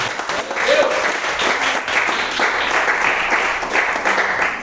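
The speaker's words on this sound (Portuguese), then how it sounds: "as palmas para o Senhor" A church congregation at a worship service claps in praise of the Lord, sustained, even applause filling the space throughout with no pause.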